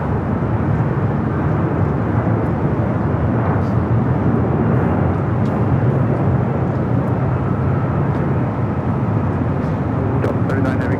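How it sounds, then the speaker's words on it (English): A Delta Boeing 767-300ER airliner arriving at Los Angeles LAX, its loud, broad, continuous jet roar filling the whole stretch at close range. "Delta 767 to 300 ER up next for arrival"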